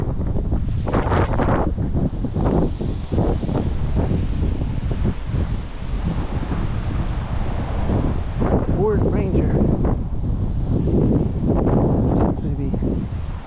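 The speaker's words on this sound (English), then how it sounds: "this wind is crazy" Strong outdoor wind buffets the microphone in loud, continuous roaring gusts with heavy rumbling, and a voice comes through faintly under it.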